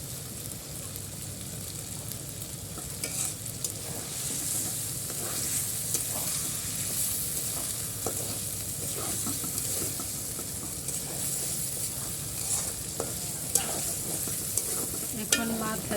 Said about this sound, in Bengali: দিয়ে আবার এগুলোকে ভালো করে কষিয়ে নেব